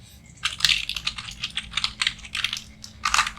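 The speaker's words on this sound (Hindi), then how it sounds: "बट मैं यहाँ पे टाइप कर देता हूँ" Rapid clicking of keys on a computer keyboard while entering text in an Excel spreadsheet, an uneven run of close, crisp keystrokes heard alone.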